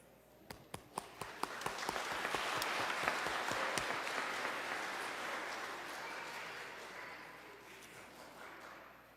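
A church congregation at a Christmas Eve youth and children's Mass applauds the children's choir, a broad wash of clapping that swells over the first seconds with a few sharp individual claps, then slowly fades.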